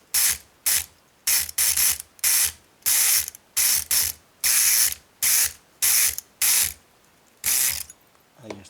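Multipick Artemis electric lock pick working a five-pin Roper cylinder, firing in about a dozen loud, harsh mechanical bursts, each roughly half a second long, separated by short pauses, with no speech.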